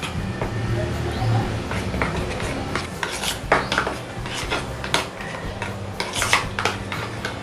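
Tomato ketchup, eggless mayonnaise and mustard sauce stirred together for a veg burger sauce, with a spoon scraping and clinking against a bowl in an uneven rhythm over a low background hum.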